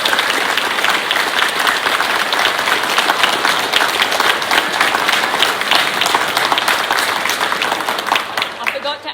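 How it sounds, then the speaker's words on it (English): A community meeting audience claps for firefighters in a sustained, dense round of applause filling the room, steady and loud throughout before tapering slightly at the end. "I think in this room it would be really great if we could just give them a big clap"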